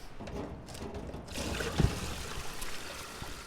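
Water drains from an inground swimming pool pump once its bottom drain plug is removed, a steady close trickle and splash that swells after a brief knock, with no speech.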